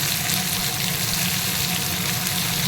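Chopped onions fry in a pan for drumstick curry, giving a steady, close, continuous sizzle with no pauses and no voices.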